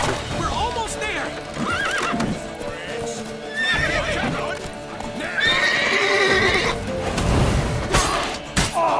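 A horse in the video game The Witcher 3 neighs and whinnies amid clip-clopping hooves and thumps, with people talking throughout.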